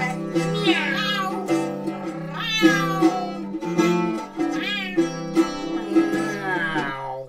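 A voice imitates a cat with a run of drawn-out, sung meows, repeated steadily and loud, each rising and falling in pitch.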